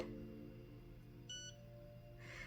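A faint, brief electronic beep sounds once from a nail lamp over a steady low hum, fairly quiet and close by.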